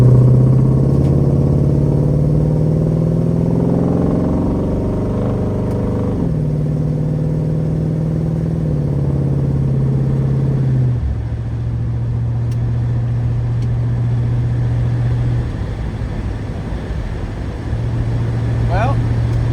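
A Chevrolet Chevelle with a newly swapped transmission cruises at 65 mph in fourth gear around 2,000 RPM, its engine a steady, loud, low drone inside the car that shifts slightly in pitch now and then.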